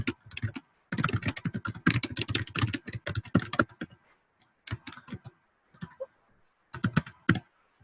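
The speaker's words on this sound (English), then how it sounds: "then I could really type in whatever text I wanted here" Someone types text on a computer keyboard in quick clattering bursts of keystrokes, broken by short pauses, close and fairly quiet, with no talking.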